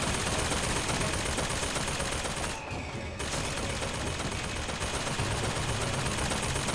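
Sustained rapid gunfire and bursts of shooting from the video game Bioshock Infinite, loud and continuous through the whole stretch, with one brief lull partway.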